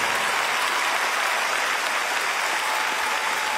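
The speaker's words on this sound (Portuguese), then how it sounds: "Um grande aplauso para o Miquel" A crowd applauds Miquel at a 30th birthday celebration, a steady dense wash of clapping that holds evenly throughout with no voices over it.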